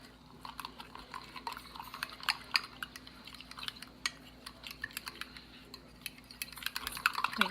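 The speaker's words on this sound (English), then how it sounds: "Just give it a whisk." A whisk clicks quickly against a bowl, mixing cornstarch into a quarter cup of beef stock as a slurry: a soft, steady run of light taps and scrapes up close, with no talking.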